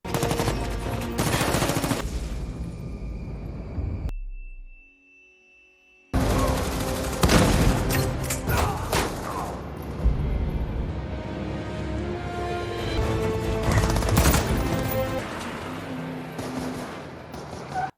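Rapid bursts of automatic gunfire and shots from a Fast and Furious 5 action scene, loud and dense, break off into a brief quiet gap before resuming in a long, chaotic barrage.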